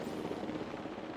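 Helicopter in the video game Crime Scene Cleaner, a steady whirring rotor drone with broadband noise that holds at even loudness throughout, with no talk over it.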